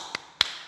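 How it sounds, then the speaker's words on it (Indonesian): Two light taps, sharp and close, the second louder, as children in a classroom clap with two thumbs. "Tepuk 2 jempol. Jempol kanan. Jempol kiri."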